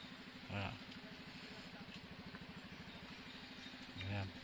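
A motorcycle engine idles with a soft, steady low pulse in a parking lot, fairly quiet and distant, broken twice by short, louder voice bursts.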